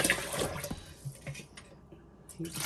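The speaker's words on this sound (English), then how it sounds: "rinse it out, and this is a repeat until your water comes out as clean as possible" Salmon roe rinsed with water, an Alaska caviar preparation: short splashing and sloshing bursts of water, fairly close, with spoken voices mixed over the liquid sounds.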